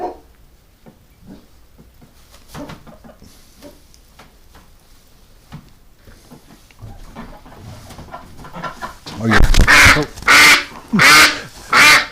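Ducks handled in winter, giving loud, harsh, rhythmic quacks in the last few seconds, close to the microphone. Before that come scuffling and soft, scattered animal noises.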